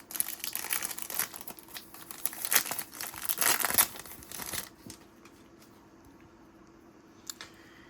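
A basketball trading card pack wrapper is torn and crinkled open up close, with loud crackling foil for about five seconds, then near quiet with a faint rustle near the end.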